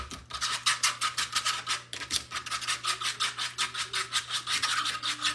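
A fork whisks eggs in a bowl with fast, regular scraping strokes, close and steady, with a low hum in the background.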